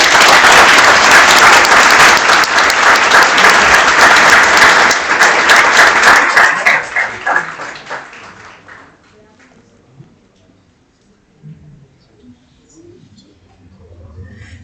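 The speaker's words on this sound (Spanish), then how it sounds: "Le damos un gran aplauso a la doctora Carmen por su excelente exposición" Loud applause from an audience after a presentation on road safety, strong continuous clapping that thins into scattered claps and fades to near quiet, with faint room sounds afterward.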